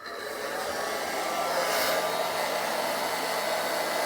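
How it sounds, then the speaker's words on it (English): Hair dryer blowing heat into a beard while a round brush rolls through it, a steady close airy roar with a slight whine, no voices. "I'm actually going to take the brush and start to roll it up into my beard while I apply heat"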